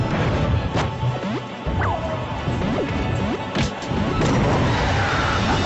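Forward smash impacts in a Project M tournament match, with loud crashing whacks among busy game effects and several sharp hits spread across the stretch over a steady background.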